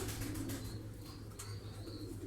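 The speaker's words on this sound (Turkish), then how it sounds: "Beyaz dönekler var burada." White tumbler pigeons in a rented breeding loft in Karacabey, Bursa, with soft cooing and occasional wing flaps over a steady low hum, fairly faint and with no one talking.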